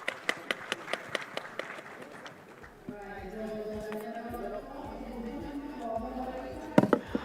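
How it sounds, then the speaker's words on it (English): A conference audience applauds the panelists at the Devolution Conference in Homa Bay. Scattered taps come first, then a wash of clapping with murmuring voices, fairly faint and at a distance. "Everybody, applause for the panelists"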